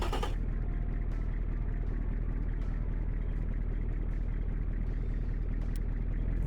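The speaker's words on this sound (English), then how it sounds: "Nice idling noise." A car engine idles steadily with a low, even rumble and faint clattering, continuous and fairly close, with no voices.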